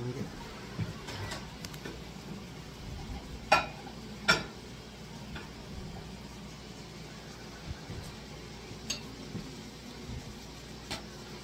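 Crunch wraps cooking on a griddle give a soft, low sizzle through the stretch, broken by a few sharp clacks of a spatula or utensil, with quiet background room noise.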